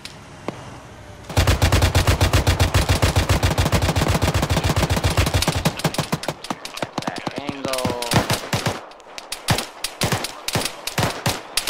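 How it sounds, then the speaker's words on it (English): Sustained automatic gunfire in a military shooter game, a dense rapid rattle of shots sweeping across an area, loud and continuous before breaking into scattered bursts, with a brief voice mixed in. "Shots are pretty much going over this entire area."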